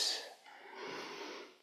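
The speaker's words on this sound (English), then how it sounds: "Breathing." Deep, airy breaths during a slow floor exercise routine, a sharp inhale followed by a long, steady exhale, close and fairly soft with no talking.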